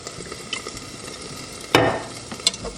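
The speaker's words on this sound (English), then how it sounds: "we're gonna heat the skillet to medium heat. We're going to add some olive oil" Broccoli fries in olive oil in a skillet over medium heat, with a low sizzle broken by a few sharp bursts of stirring and crackle, one louder surge near the middle.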